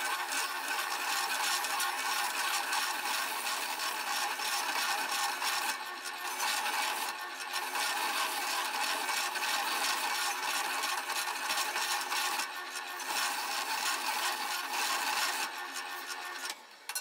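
Knife handle scales being smoothed by hand with a rasp or abrasive, a steady close rasping rub that runs continuously with only brief pauses, loud and alone without talk.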